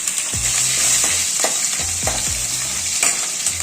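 Mustard seeds, urad dal and chana dal spluttering and frying in hot oil for tomato gosthu, with a steady sizzle and a series of sharp popping crackles spread through the whole stretch.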